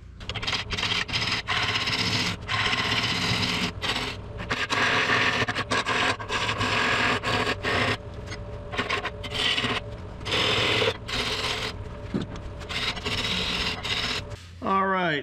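Wood turned on a lathe while a tool shapes the tip into a bead for an owl house: intermittent rasping, scraping cuts in short bursts against the steady spin of the workpiece, separated by brief pauses.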